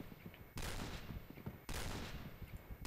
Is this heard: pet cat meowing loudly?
no